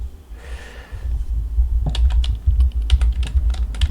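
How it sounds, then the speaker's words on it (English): Keystrokes on a computer keyboard start partway through, forming irregular bursts of clicks close to the mic over a low steady hum. "Alright, so now we're gonna type in over here"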